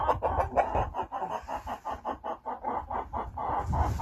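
Backyard hens cluck in a rhythmic, busy chorus nearby, their short calls overlapping continuously throughout.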